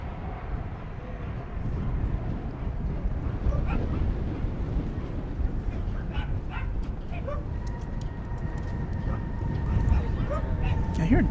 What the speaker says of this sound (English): I think we've got two dogs barking at one another.